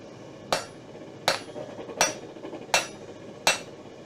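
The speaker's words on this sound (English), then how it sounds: "We're gonna do a half-faced blow on 2 sides." Five evenly spaced hammer blows ring out on 3/8 inch stock during hand forging, each a sharp metallic strike about three-quarters of a second apart, delivered as half-faced blows with a faint ringing decay.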